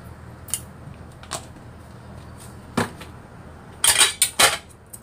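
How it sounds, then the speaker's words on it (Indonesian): Metal spoon scraping and clinking against a pan while tempeh seasoning with salt and a little water is stirred, a few sharp separate taps, then a quick burst of clatter near the end. "Kita aduk ya sebentar."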